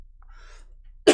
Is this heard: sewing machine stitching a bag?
no